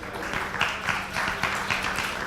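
A conference audience claps for a panel speaker at a cybersecurity event in Tel Aviv, a moderate, fairly even round of applause heard up close without talk.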